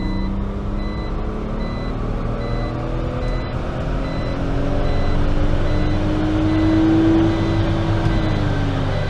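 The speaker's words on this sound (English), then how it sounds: "It's beeping at me because of my seat belt." A steady electronic seatbelt warning beep inside a moving BMW Z4 on a rolling road, sounding over loud engine and road rumble that swells slightly toward the end.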